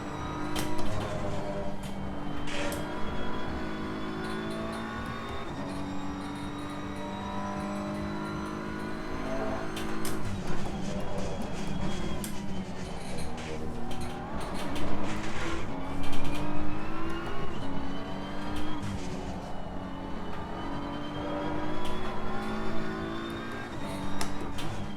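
A Honda and a BMW race a hot lap at Laguna Seca, their engines loud and close throughout, revving up and down through gear changes with continuous road and wind roar.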